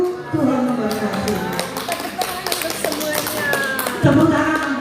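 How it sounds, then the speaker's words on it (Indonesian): Scattered claps and taps from an audience at a school seminar on preventing violence against children, uneven and close, with people talking over them. "Tepuk tangan Bapak Ibu"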